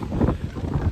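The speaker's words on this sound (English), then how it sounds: "It's still windy as can be, raining a little bit" Strong wind from Hurricane Helene buffets the microphone in steady, rushing gusts, with light rain in the mix and no clear voices for the whole second.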